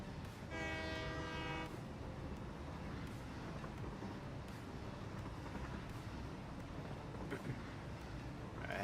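A train in the factory-building game Satisfactory rolls past, a sustained low rumble with a brief tonal horn blast near the start, fairly faint and steady.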